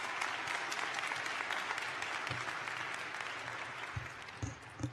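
A graduation audience at a high school ceremony applauds a student speaker, a dense, steady roar of many hands clapping that runs throughout with a few sharper claps and whoops near the end.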